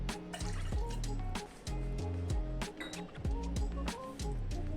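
Water is poured from a measuring cup into a pan for garlic murukulu dough, in several repeated pours whose gurgling pitch rises as the vessel fills, close and clear, with no voices.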